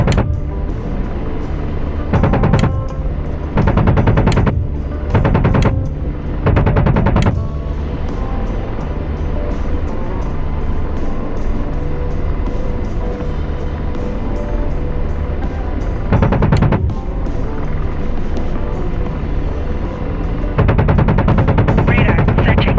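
Sustained machine gun fire from a combat flight game set over Syria, in repeated loud bursts over a constant engine drone, with brief pauses between volleys.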